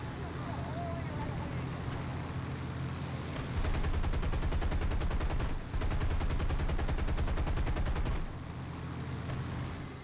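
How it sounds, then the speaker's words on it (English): Rapid machine gun bursts rattle during a War Thunder aerial dogfight, two long rhythmic volleys over a droning aircraft engine, with a voice talking over the action. "As you see him, he's shooting me up."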